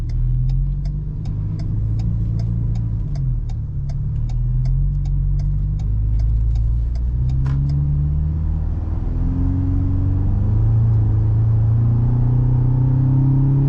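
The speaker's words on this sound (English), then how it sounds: "I love the way the exhaust sounds too" A 2021 Roush Ford Ranger pickup's 2.3-liter engine revs and pulls steadily, its deep exhaust note rising in pitch, with a rapid ticking that stops partway through.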